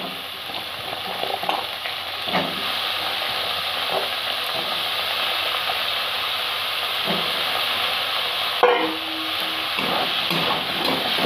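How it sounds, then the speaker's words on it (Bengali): Small diced potatoes frying steadily in a pan with a continuous close sizzle and hiss, punctuated by occasional scrapes and clinks of stirring, with no talking. "ভালো করে এটা আলুটা আমি ফ্রাই করে নেব"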